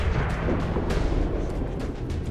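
A big explosion in the XCOM 2 video game rumbles as a dense, continuous roar with crackling debris bursts, loud and close, and no voices.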